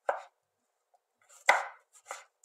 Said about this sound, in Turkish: Sarımsak turşularımı da soydum. Onları da şöyle iri iri doğruyorum.